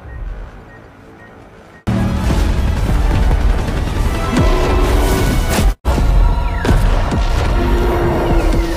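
After a quiet opening, a loud, dense barrage of missile, tank and machine gun fire erupts, with heavy booms and crashes overlapping almost continuously.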